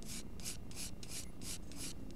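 A pencil shades an apple drawing on paper in a run of about eight quick, evenly spaced scratchy strokes, close and soft against a quiet background.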